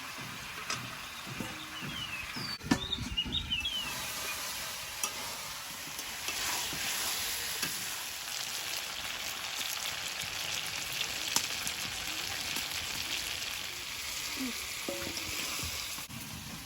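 Chicken and potatoes fry in a pan, a steady moderate sizzle and crackle with a few stirring clinks and knocks, no voices.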